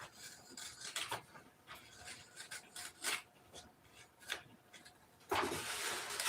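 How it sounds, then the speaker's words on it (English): Wood being sanded by hand with a sanding block, a series of rough rasping strokes in an uneven rhythm, close and moderately quiet, with a louder sustained stroke near the end. "I think I might have taken a swipe or two too many with the sanding block."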